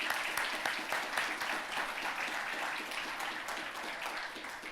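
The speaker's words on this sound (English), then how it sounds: "I would like to give you all a round of applause for all your fantastic volunteering" An audience claps for volunteers during a mayor's state of the city address, sustained, moderately distant applause rolling evenly for several seconds without talk.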